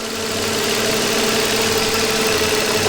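A car engine idles steadily and loudly, a continuous mid-pitched drone holding even with no break, heard close up while a battery charger is connected.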